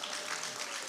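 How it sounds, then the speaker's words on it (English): Audience at a West African women's political leadership forum applauds in a brief, steady burst of dense clapping that fills the whole second at moderate volume. "We need a round of applause for that."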